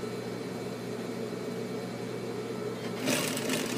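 A sewing machine back-stitches over a zipper on men's jeans with a steady, fairly quiet motor hum and needle drone that swells briefly louder near the end.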